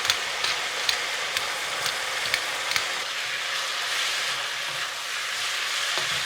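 Eggs sizzle in a hot oiled pan for egg fried rice, a steady bright frying hiss running throughout with a few sharp crackling pops, close and moderately loud, with no talking.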